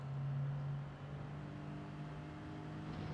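A Gran Turismo 7 race car engine holding a steady drone, with a slight dip as the gear changes up and the pitch settles lower, moderately loud and without voices.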